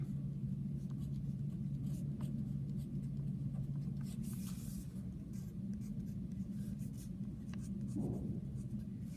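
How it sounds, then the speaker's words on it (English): Pen scratching steadily on paper while a quadratic expression is written out for a math exam review, a close, continuous writing sound with no talk. "I'm going to write the second one twice."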